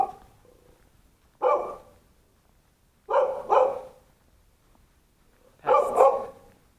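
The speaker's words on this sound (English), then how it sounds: "Another dog barking like crazy." A dog barks in three separate loud bursts spaced a couple of seconds apart, the middle burst a quick double bark, with quiet between them.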